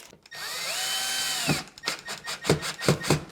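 A power drill whirs steadily while driving screws into drywall, then gives several short, loud bursts in a stuttering rhythm, close by.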